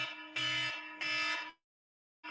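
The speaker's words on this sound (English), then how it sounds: "That's the alarm going off right there" An alarm buzzer blares in two loud, harsh pulses, each about half a second long, then cuts to silence before starting again at the very end.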